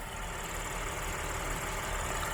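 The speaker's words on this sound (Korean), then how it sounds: "링컨 에비에이터 엔진 자체가 이제 V6 6기통 가솔린 엔진이 들어있는데요 이거 한번 제가 확인해 드리도록 할게요 소음은 이 정도" A Lincoln Aviator Reserve luxury SUV's V6 gasoline engine idles in a smooth, even hum heard from close by, steady and fairly quiet, with no voices.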